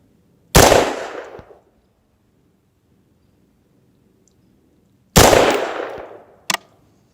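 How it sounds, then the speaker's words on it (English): Two loud, sharp rifle shots from a BRN-180 upper fitted with an LPVO ring out outdoors several seconds apart, each with a quick fading echo, followed by a faint distant impact or echo crack. "Now let's zoom in and simulate a long range shot"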